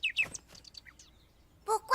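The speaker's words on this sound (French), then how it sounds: "Salut, petit oiseau." Small cartoon bird chirping in an animated children's show, a few quick high tweets at the start and two brighter chirps at the end, close and clear over near silence.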